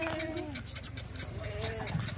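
A big pregnant Kathewadi goat bleats in short, wavering cries, close and fairly loud, with a few faint voices and bird chirps behind it.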